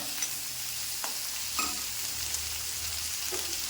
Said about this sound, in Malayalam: ഈ സവാള ഒന്ന് മൂക്കാനും വേണ്ടിയാണ് നമ്മളിങ്ങനെ ഒന്ന് വയറ്റുന്നത്